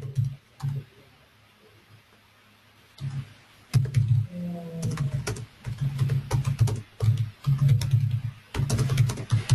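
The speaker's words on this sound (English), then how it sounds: "So I type in the findings." Keys clatter on a computer keyboard in irregular bursts of close, crisp clicks, with short pauses between runs of typing while entering findings into quality-management software.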